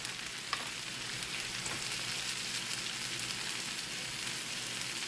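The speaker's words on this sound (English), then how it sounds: "the veggies are cooking down really, really well" Peppers and onions frying in a pan seasoned with Goya Sazon for sausage and pepper hoagies, a steady close sizzle that runs throughout with no one talking.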